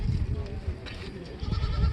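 A goat bleats amid a Saturday village goat market, the calls brief and close while people talk and bargain nearby over a low crowd murmur.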